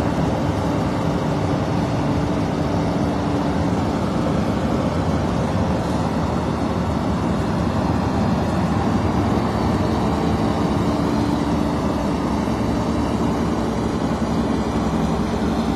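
A sugarcane harvester machine runs in the field, its engine a loud, continuous low rumble with a steady mechanical drone and no breaks, with no talking over it.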